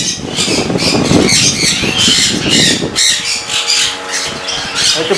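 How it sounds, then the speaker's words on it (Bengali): Conure parrots squawking nearby, loud raspy calls that overlap in a continuous chattering flock chorus, including blue yellow-sided and pineapple conures. "তো এই হচ্ছে কোনর পাখি, দেখে নাও"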